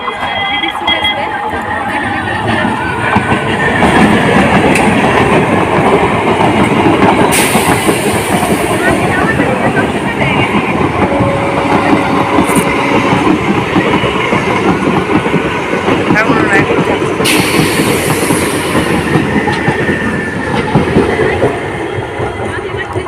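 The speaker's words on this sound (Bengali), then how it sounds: "তোমরা দেখতে পেলে যে ট্রেনটা চলে গেল" A train rumbles past close by for the whole stretch, steady wheel clatter on the rails with a couple of brief high squeals.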